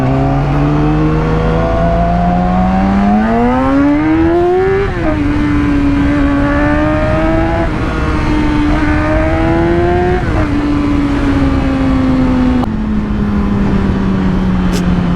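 A Yamaha R6 motorcycle engine revs loudly while riding, its pitch climbing through the gears in repeated rising pulls with shifts, close and continuous with wind roar underneath.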